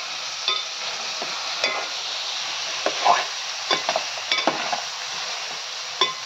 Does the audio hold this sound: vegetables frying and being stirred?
yes